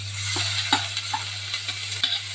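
Varai rice grains sautéed in ghee in a pan, with a quiet steady sizzle and a few light scrapes of a spoon, close and without talking.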